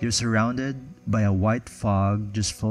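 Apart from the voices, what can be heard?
No distinct noise like a dog, phone or traffic.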